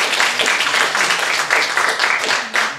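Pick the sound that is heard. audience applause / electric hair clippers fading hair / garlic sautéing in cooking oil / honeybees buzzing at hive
audience applause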